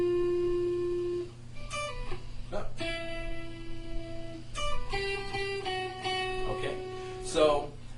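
An electric guitar plays the Mission Impossible theme melody with pull-offs, single picked notes and quick slurred phrases ringing out close and clear over a faint background hum.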